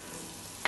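Leek sweating in butter in a pot, a low, even sizzle near the pan with a brief tap at the end; quiet, no voices.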